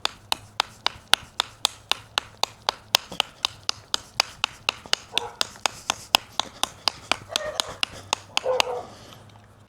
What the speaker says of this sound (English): do a little bit of chopping real quick